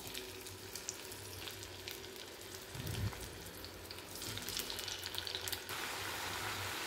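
Tomatoes dropped into hot oil in an iron pan sizzle and fry quietly and steadily, the crackle swelling briefly as pieces go in, with no voices.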